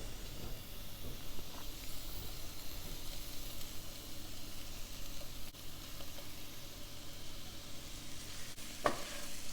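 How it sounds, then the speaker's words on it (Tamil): Potato-stuffed mini idlis sizzle quietly in a hot pan with a soft, steady hiss, with faint stirring and one small clatter near the end. "இப்போ இதில் ஸ்டஃப்டு பொட்டேட்டோ மினி இட்லியை ஆட் பண்ணுறேன் நான்."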